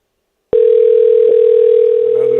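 A steady telephone dial tone holds alone from about half a second in, loud and unbroken, as a radio show calls a contest winner; a brief click interrupts it and faint voices creep in near the end.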